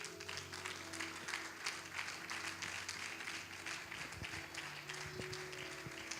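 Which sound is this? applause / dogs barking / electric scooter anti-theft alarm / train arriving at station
applause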